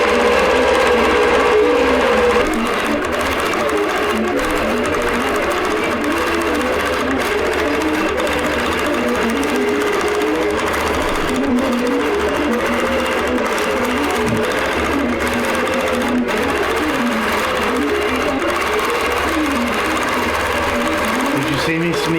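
A long-arm quilting sewing machine runs steadily, its fast even needle stitching forming a continuous mechanical whir as a moon pattern is quilted, with a voice speaking over it now and then.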